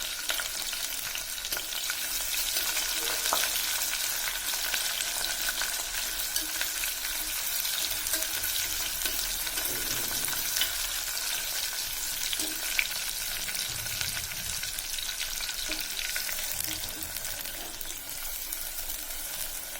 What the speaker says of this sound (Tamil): பெரிய வெங்காயம் சேர்த்ததுக்கப்புறம் நல்லா கிளறி விடுங்க.